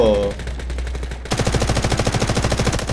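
Automatic gunfire in the Delta Force video game, a rapid, steady stream of loud machine-gun shots that breaks in suddenly partway through and continues in a regular rhythm, after a brief stretch of quieter sounds.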